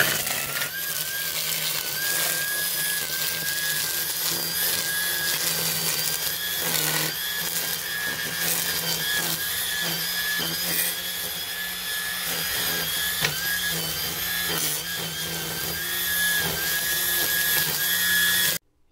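A Ryobi 40-volt cordless string trimmer runs steadily for the whole stretch, a loud, close, high motor whine with small shifts in pitch as it works and no talking.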